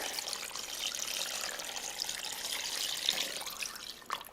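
Steady running water pours into an Instant Pot over honeycomb tripe, garlic and onion, a continuous broad splashing hiss with no talk, moderately close and even in level.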